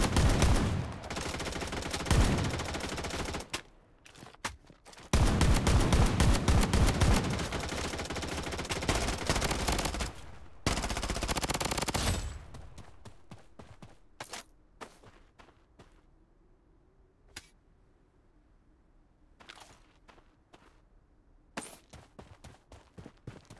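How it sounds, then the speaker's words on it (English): Gunfire in the video game Blood Strike: dense bursts of rapid automatic fire dominate the first half, then thin out into scattered single shots and short volleys over quieter background. "Taking fire!"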